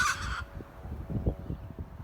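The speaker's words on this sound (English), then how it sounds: "above you can hear a red wattlebird squawking, just there" Red wattlebird squawking in an Australian backyard, a single harsh, raspy call at the very start, followed by low outdoor rumble and faint bumps.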